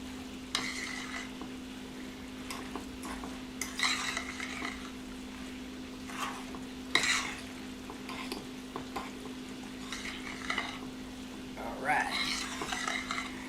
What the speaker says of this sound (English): So we give it a good stir.